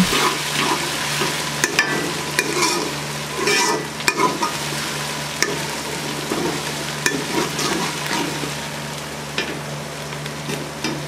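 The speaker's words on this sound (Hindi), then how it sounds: "हरी मिर्चों को फ्राई करेंगे" Green chillies frying in a pan for an aloo karela dish, a continuous close sizzle punctuated by scraping stirring strokes, fairly loud and with no talk.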